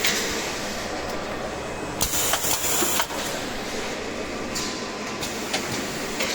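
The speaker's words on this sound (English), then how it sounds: "Also we have a box feeder like this." Box feeder on a labeling machine running, a continuous mechanical rumble with rhythmic clacking and sliding, punctuated by a few sharper metallic knocks, close and steady.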